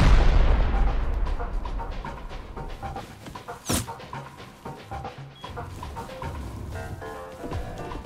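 Gunfire in the video game Rust during a beach raid: a dense run of booming shots opens the stretch, then a single sharp loud crack stands out, followed by scattered quieter shots and clatter with no speech.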